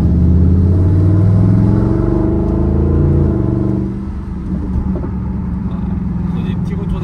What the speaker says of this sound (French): Ah, on a des petits retours d'échappement.